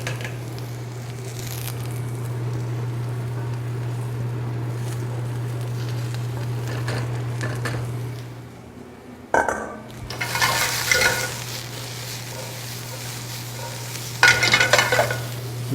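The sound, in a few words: carrots and onions sizzling in a pan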